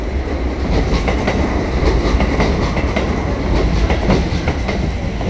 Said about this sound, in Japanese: 赤い列車と赤い列車、